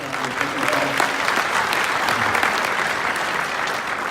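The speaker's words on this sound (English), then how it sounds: "Can we give a round of applause for Dave and Nick for their time?" Steady, dense applause from an audience thanking Dave and Nick, many hands clapping close and even for about four seconds, with a brief voice faintly audible at the start.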